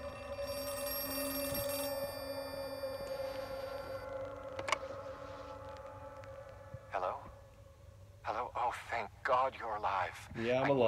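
In the horror video game Outlast 2, a telephone rings with a bright, sustained electronic tone for a few seconds, followed by a sharp hit and then distorted, wavering voice-like game sounds at moderate loudness.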